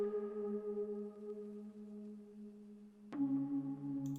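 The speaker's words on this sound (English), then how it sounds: "I use this synth is what it sounds like." A sustained synthesizer pad holds steady chords, then shifts abruptly to a new lower chord with a sharp attack near the end; ambient and alone.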